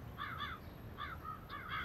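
A crow caws several times in short, nasal bursts, moderately distant and somewhat faint, with a low hum of outdoor background beneath the calls.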